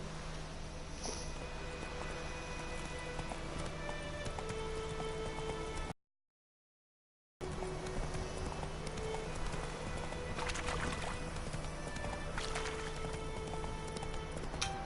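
Roach the horse gallops in The Witcher video game, a steady rapid clip-clop of hooves running on and on with a brief total dropout midway, no talking over it.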